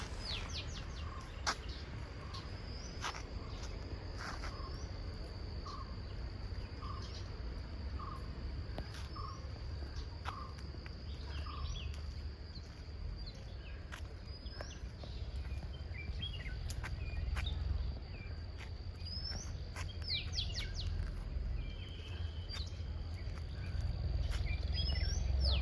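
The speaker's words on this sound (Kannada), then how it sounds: "ಹಕ್ಕಿಗಳ ಕಲರವಂತೂ ಕೇಳ್ತಾನೇ ಇದೆ." Crickets trill steadily beside a lake while birds chirp and call in short repeated notes, faint and somewhat distant over a low rumbling outdoor background, with no talking.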